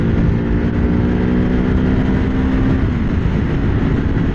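Motorcycle being ridden, with loud, steady engine and wind rumble held at a constant level throughout, close up and without pauses.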